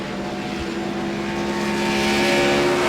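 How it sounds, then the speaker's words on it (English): A GT race car engine in a sim racing video game at Road America holds a steady, droning tone that slowly builds in intensity, loud and alone without talk. "He's not revving that hard at all."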